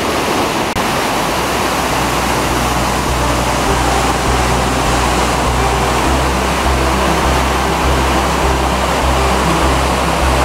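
Waterfall beside a stream roars as a loud, constant broadband rush of falling water, close and unbroken, with no voices.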